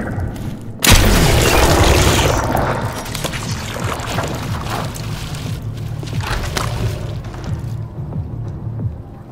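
Explosive bolt fired from a gun in the zombie game Dead Island 2, a loud sudden boom followed by a long rumbling roar and debris crashing that slowly fades.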